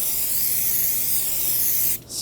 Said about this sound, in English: Now take the rotor, the back side, use some brake parts cleaner.